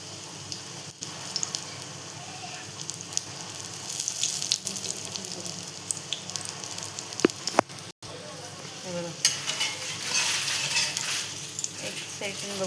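Besan-coated bread toast fries in a pan with a soft, continuous sizzle. Faint clinks and shuffling come and go, and the frying grows a little louder and brighter toward the end.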